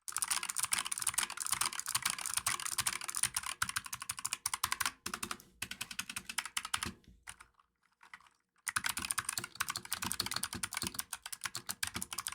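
Fast typing on a Razer Huntsman Mini keyboard, dense crisp keystrokes close up that stop for about a second midway and then resume at full pace.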